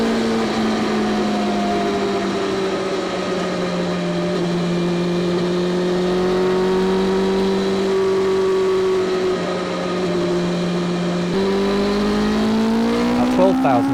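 A BMW M1000XR motorcycle engine drones loudly and continuously while riding, its pitch rising and falling gently with throttle and shifting near the end, with someone talking over the engine noise.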